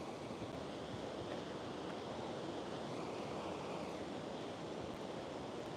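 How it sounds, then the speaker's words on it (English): Waves and wind out on the open Pacific Ocean make a constant broadband wash, steady and fairly faint, with wind buffeting the microphone and no voices. "This is the open Pacific Ocean."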